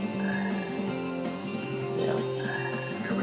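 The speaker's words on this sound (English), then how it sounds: "at the same time there's a frog over there." Croaking frog in the video game Sonic Heroes, a steady repeated croak heard alone against looping game music.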